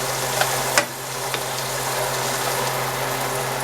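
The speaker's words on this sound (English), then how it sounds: "you want to saute your onions and peppers real good, mix it in with that butter" Onions and peppers saute in butter in a hot pan, giving a loud, continuous sizzle with a couple of faint stirring knocks near the start.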